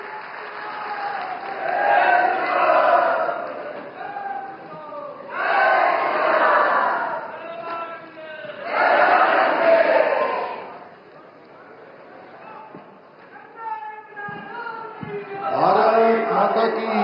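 A crowd at an outdoor public rally applauds in strong bursts to welcome the Chief Minister in Harsil, Uttarakhand, with loud waves of clapping separated by quieter stretches where an announcer speaks.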